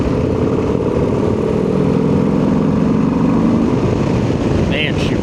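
A 2026 Harley-Davidson Low Rider ST on a test ride, its engine giving a steady loud rumble with wind noise, and someone talking over it.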